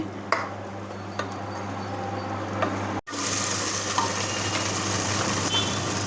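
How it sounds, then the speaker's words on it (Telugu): Green chilli slices and masala frying in oil for a country chicken gravy curry, a steady close sizzle with faint ticking stirs, briefly cut off midway before the sizzle resumes a little louder. "ఈ పచ్చిమిర్చి చీలికలు ఇవి కూడా వేసుకొని మనం దోరగా వేపుకోవాలి"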